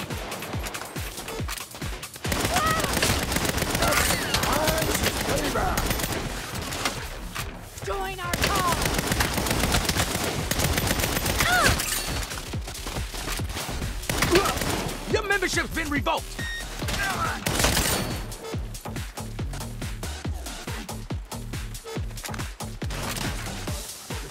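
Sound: gunfire in the video game Saints Row

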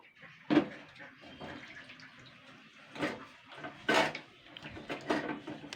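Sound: rinsing old brass utensils with water

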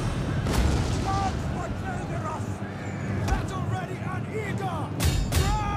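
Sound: artillery cannons firing in video game Total War Attila

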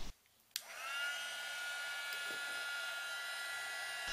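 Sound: heat gun heating metal for soldering

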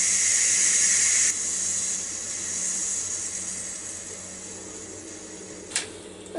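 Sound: Ninja Foodi pressure cooker releasing steam through vent

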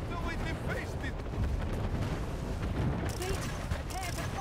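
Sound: cannons firing in the video game Anno 1800

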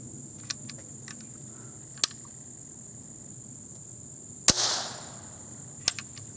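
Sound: percussion cap firing in vintage CVA Hawken rifle

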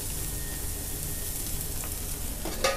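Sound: food frying and sizzling

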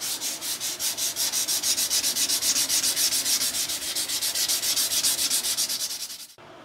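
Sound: sanding a knife handle

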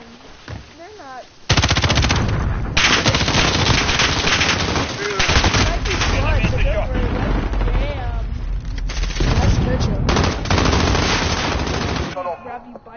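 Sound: gunfire in the video game Call of Duty Warzone

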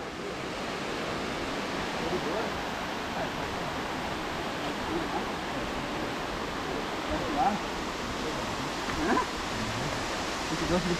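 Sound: waterfall, Salto do Rio Vermelho

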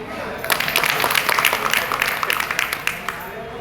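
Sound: applause for the guest at a political meeting

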